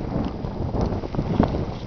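Steady gusty wind buffeting the microphone on a sunny morning after a storm, a low rumbling roar that swells and dips throughout, with no voices.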